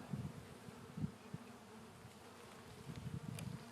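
A steady low buzzing of honey bees, swelling louder at moments, close by with no voices.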